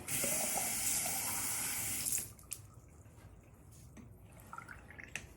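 Warm water running from a tap or being poured for styling 4C hair, a loud steady rush lasting about two seconds that then stops, leaving quiet drips and faint splashes.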